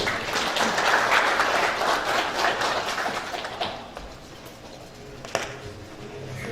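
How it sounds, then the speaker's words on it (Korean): An audience applauds after a special lecture on climate change at a conference, with sustained, fairly loud clapping from many people that gradually thins and fades out. "감사의 박수 부탁드리겠습니다"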